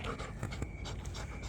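Close, quiet rapid dog panting in a steady rhythm, heard alone in a short stretch.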